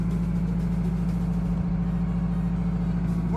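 A converted bus engine held at raised revs around 1,200 to 1,500 RPM, a loud, steady low drone with an even throbbing pulse running throughout.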